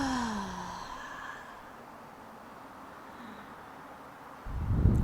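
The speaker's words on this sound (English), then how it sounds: "Audible exhale out the mouth." A person breathes out audibly through the mouth after a deep breath, a soft airy sigh fading over the first second or so, followed by quiet and a brief rustle at the end.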